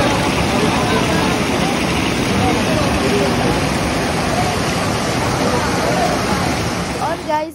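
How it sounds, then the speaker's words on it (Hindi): Loud, roaring waterfalls at a river confluence near Basistha Temple in Guwahati, a steady dense rush of falling water close by that fills the whole stretch without pause, fading slightly at the very end. "इन झरनों का आवाज़ इतना मतलब तेज़ और इतना ज़ोर से आते कि वहाँ पर आप कुछ भी बोलोगे तो सुनाई भी नहीं देगा"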